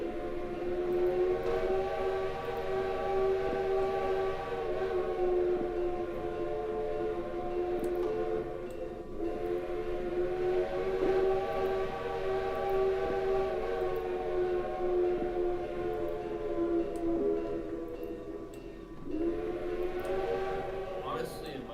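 A train whistle in a Roblox video game sounds one long, unbroken, steady harmonic tone for over twenty seconds, bending slightly in pitch near the end.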